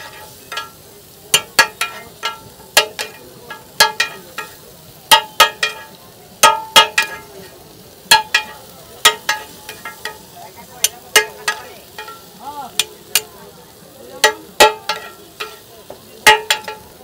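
Chicken chaap fries in mustard oil with mango pickle, capsicum, carrot, onion and tomato at a street food stall, a soft sizzle under loud, irregular metallic clacks of a spatula striking the cooking surface.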